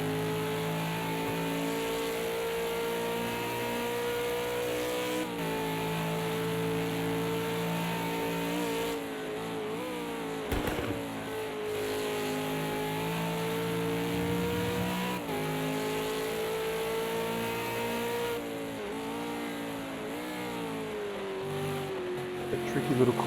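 Onboard a V8 Supercar lapping the Bathurst circuit, the engine drones loudly and continuously, its pitch climbing and dropping sharply through gear changes and throttle lifts for the whole lap segment.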